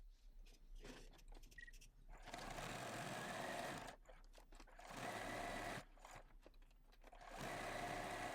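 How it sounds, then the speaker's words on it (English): A sewing machine top stitches around the edge of fabric for a luggage sleeve, running in three or four bursts of steady, close whirring stitches separated by short pauses. "we're going to head back over to our sewing machine and we're going to top stitch all the way around here"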